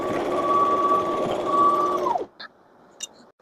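A sewing machine stitches fabric for a bingo bag in one continuous close, droning whir of about two seconds, then stops, leaving a couple of faint clicks and a short scrape.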